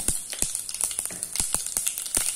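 Mustard and cumin seeds frying in two spoons of hot oil for a Karnataka snake gourd kootu, giving a steady high sizzle punctuated by sharp irregular pops and crackles, close and alone.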